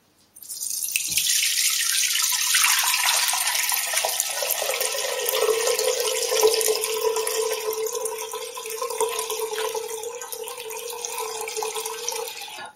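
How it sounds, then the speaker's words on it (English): Hopped beer wort for a summer red IPA poured through a strainer into a separate pot: a steady, close splashing pour of liquid that runs unbroken for the whole stretch, loud and continuous with no talking. "Now I will pour it in a separate pot so we can get rid of the hops."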